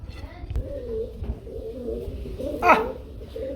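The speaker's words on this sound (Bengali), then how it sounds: "কবুতর গুলো যখন ডাকে" Racing pigeons of Belgian blood, for sale in pairs, coo in deep repeated throaty rolls, fairly close, with a brief brighter flutter or call near the end and faint voices in the background.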